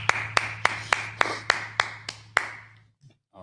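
Steady, evenly spaced claps at a sabbath service, about nine in a row over a low constant hum, then they stop and it falls quiet.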